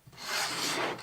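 The extension of an Enjoywood table saw mitre gauge is pulled out in one smooth, brief rasping slide of the sliding bar, heard up close with no voices.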